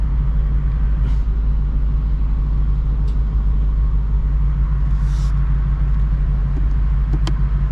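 A 2024 Ford Mustang GT V8 with loud exhaust idles in reverse at night, a steady deep rumble holding level throughout with a couple of faint clicks on top.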